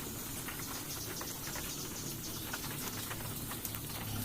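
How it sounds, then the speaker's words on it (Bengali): Steady rain patters down beside an outdoor clay stove on a wet day, a dense, even hiss of drops on surfaces with no voices. "এখন চুলার পাড়ে বৃষ্টি পড়ে, তার জন্য অনেকগুলো খড়ি ভিজে গেছে।"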